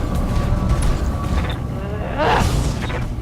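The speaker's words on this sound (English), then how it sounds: "So we got an ammo explosion" An ammo explosion in the BattleTech video game gives a loud, rumbling boom with a swelling burst about two-thirds of the way through, over a steady din of game noise.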